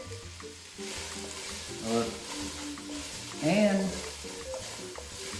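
Diced celery browning in a dry pan without oil, a soft sizzle with intermittent stirring scrapes while a person talks over it.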